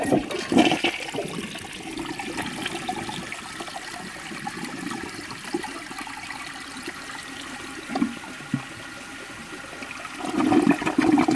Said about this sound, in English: first thing I'm gonna flush is a pretty thick washcloth